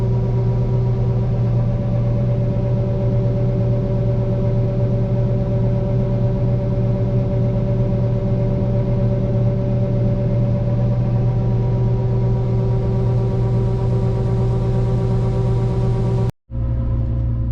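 Steady diesel drone of a combine harvester running while unloading soybeans into a semi truck, with strong constant low hum and tonal whine, continuous for most of the stretch before cutting off abruptly near the end.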